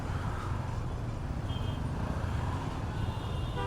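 Jammed road traffic on Banasree main road in hot sun is a dense, continuous rumble of idling engines with a few brief horn-like tones, heard from among the vehicles.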